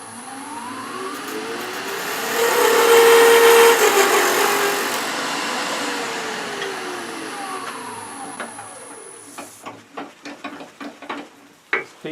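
A wood lathe spins up and hums while a tenon is cut on a small birdhouse roof, with a rising and falling whine. It then winds down into a series of close clicks and taps.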